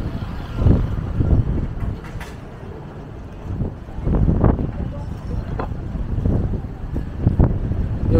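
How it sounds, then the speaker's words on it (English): Strong wind buffets the microphone on a seaside walk in Agios Nikolaos, Crete, in low rumbling gusts that rise and fall throughout, with voices heard in places. "The wind is strong here in Agios Nikolaos."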